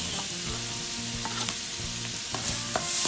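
Sliced onions fry in melted butter in a pan, a close, steady sizzle with occasional soft stirring knocks and no talking.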